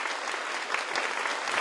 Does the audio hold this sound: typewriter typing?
no